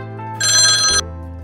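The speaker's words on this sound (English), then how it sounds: "Hey, Job, your neighbor is on the phone" A telephone rings in a short animated comic, a bright electronic trill that lasts about half a second over a low background tone, loud and close with no talking.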